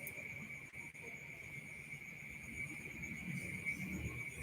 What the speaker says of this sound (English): this frog is doing a much better job. It's pretty loud.